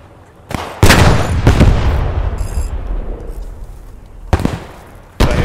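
Gunfire in the Post Scriptum video game at Oosterbeek, a few loud close shots with long booming echoes trailing away between them, no talk.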